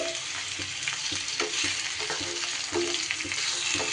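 Chicken pieces frying in a pan for a Bengali milk-powder chicken dish, a steady close sizzle with repeated scraping stirs of a spatula throughout.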